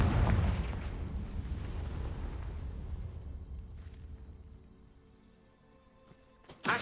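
A Confringo blasting spell explodes in Hogwarts Legacy, a heavy booming blast up front that rolls off into a long fading rumble, then a short sharp hit near the end.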